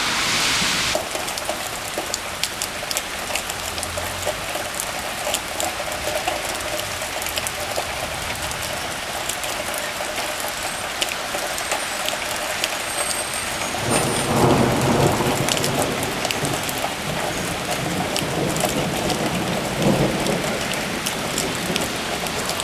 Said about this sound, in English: Boy, did this storm come on quick.